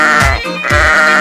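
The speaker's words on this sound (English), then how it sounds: "And look, it's a sheep." Children's toy sheep giving two short, loud bleats in quick succession, close and alone with no talking.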